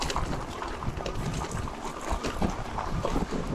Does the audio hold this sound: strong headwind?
yes